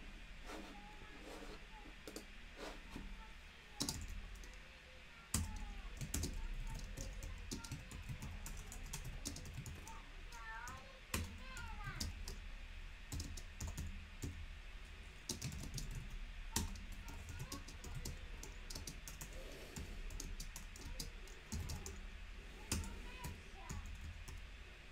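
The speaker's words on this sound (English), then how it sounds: "you're going to go ahead and just type the rest of the lyrics" Keys clatter in irregular bursts of typing on a computer keyboard while someone enters lyrics to shape a text portrait, with scattered clicks and faint murmuring in the background throughout.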